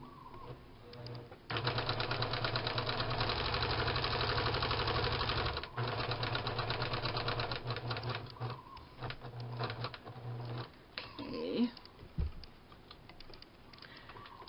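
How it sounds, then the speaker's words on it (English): A domestic sewing machine runs steadily for several seconds, stitching down the raw edge of eyelet lace trim for fabric flowers, with a brief pause midway before the rapid, even needle rhythm resumes and then slows to handling noises. "I'm just going to go ahead and sew down one side of it, the raw edge side of course."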